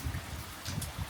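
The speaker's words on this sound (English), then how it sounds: "So I hope this rain leaves us by then." Steady rain falls on a boat's surroundings, a dense close hiss with soft low patter and scattered brighter drops, continuous and unbroken.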